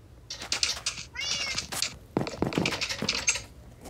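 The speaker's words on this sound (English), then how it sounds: "Here, I'll take care of the kitty." Several meows from a cat in the Minecraft video game, bright and close, arriving in quick bursts with a pause in the middle.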